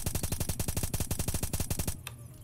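A suppressed XM rifle in Apocalypse Rising 2 emptying a magazine in rapid automatic fire, about sixteen evenly spaced muffled shots that stop abruptly with a faint mechanical click after.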